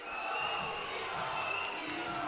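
Ice hockey crowd at Murrayfield Ice Rink in Edinburgh, a steady, broad roar of cheering and shouting filling the arena throughout, with voices blended into the wash.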